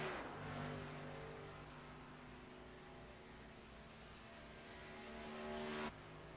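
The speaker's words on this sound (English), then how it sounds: "As these cars work up to speed here with the restrictor plate and everything, it takes them a moment to get up to speed" Race cars with restrictor plates accelerating up to speed during an OP Racing Monday Series event, a continuous droning engine roar that holds steady then swells louder before cutting off abruptly, with no talking.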